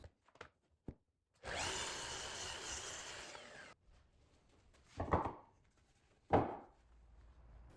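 A power drill drives long screws into wooden boards while building an outdoor pavilion: one sustained whirring run of about two seconds, then two short bursts, close and loud, with nobody speaking.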